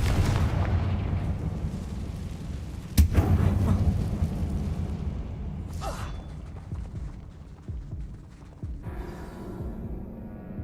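A Confringo fire spell is cast in Hogwarts Legacy, with a sharp explosive burst near the three-second mark over a dense rumbling game soundscape of low booms and crackles.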